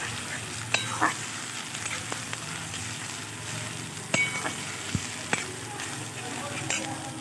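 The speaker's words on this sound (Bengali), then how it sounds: "এবার এটা দিয়ে আমি কিছুটা কষিয়ে নেব।" Spice paste frying in a pan for a coconut-milk duck egg curry, a steady broad sizzle with occasional clinks and scrapes of stirring; no talking.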